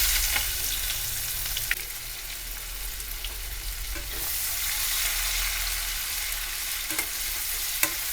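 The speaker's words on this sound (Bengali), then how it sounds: "ওই তেলেই কুচিয়ে রাখা পেঁয়াজগুলো দিয়ে দিচ্ছি" Chopped onions frying in hot oil with fish bones, giving a steady loud sizzle with occasional sharp pops and stirring scrapes, close up and without voices.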